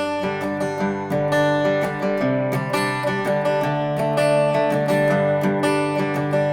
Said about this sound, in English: start to think about adding a little bit of like an arpeggio picking to the strum